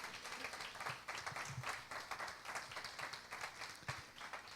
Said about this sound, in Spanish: Si quieres darle un aplauso al Señor,